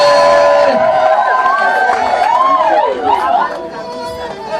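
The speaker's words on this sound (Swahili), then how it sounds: "Hamna makofi, shangwe na vigelegele." Wedding guests cheer and ululate in a lively crowd, with high warbling trills and excited voices rising over a dense babble of chatter, loud and continuous throughout.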